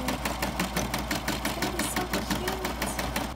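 An embroidery machine stitching out a patch, running fast with a steady rapid mechanical chatter and hum, close and continuous with no talk.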